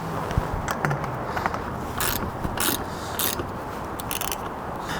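Bolts holding an awning to its mounting bracket on a Sherpa rack of a 1st Gen Sequoia are tightened with a ratchet, giving rapid repeated clicking bursts, close and clear.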